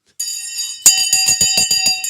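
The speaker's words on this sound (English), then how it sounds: "Oh my God, the bell's gone." An electric bell rings loudly and close, with a brief tone first and then a fast, even train of about eight metallic strikes.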